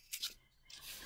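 Paper coin roll wrapper being peeled open, a couple of quick crinkly tearing crunches up close followed by a softer rustle, no talk.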